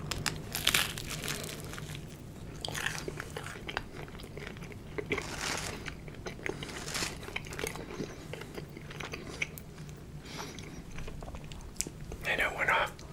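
Close-up crunchy chewing and crinkling while eating a strawberry-filled Rice Krispies breakfast, with repeated bites and rustles over about thirteen seconds and soft murmured talk woven through.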